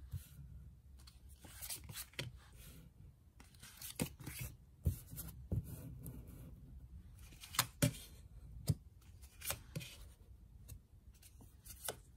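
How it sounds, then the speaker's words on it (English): Soft papery riffling and sliding of tarot cards being shuffled, with sharp snaps and taps scattered throughout, close by and fairly quiet, no talking. "let's shuffle some cards and gauge this energy for air signs"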